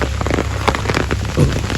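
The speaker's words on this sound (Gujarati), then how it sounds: "આજે હવારોનો વરસાદ પડી રહ્યો છે અને ઝરમર પડી રહ્યો છે" Close morning drizzle patters on a surface on a farm, with a few sharper drops and taps standing out in the steady wet hiss.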